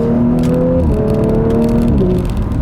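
A 2018 Audi RS5 engine drones loudly and close, its pitch climbing under acceleration and then stepping down abruptly at two quick paddle-shift gear changes.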